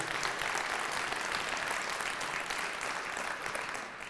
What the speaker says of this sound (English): that's deserves a round of applause there.